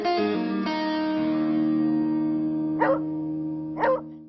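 Two short guard dog barks ring out about a second apart in Madagascar, set against a sustained, humming musical drone that fills the background.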